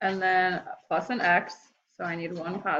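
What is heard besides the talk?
None of the usual background noises is heard.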